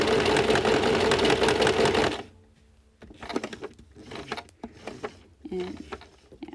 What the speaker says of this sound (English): the whole reason I hand wheel so that I can get those extra stitches just right to the edge where I want it